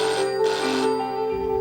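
A phone ringtone plays loudly and continuously in a home in the morning, a steady electronic melody with shifting tones filling the short moment, with no voices over it.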